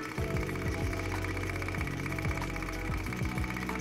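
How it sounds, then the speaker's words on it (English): A poor-quality electric fuel pump for a car or motorcycle makes a steady mechanical whir with a rapid rhythmic ticking, running continuously, close up and fairly loud. "when a fuel pump runs like this, it's a poor quality"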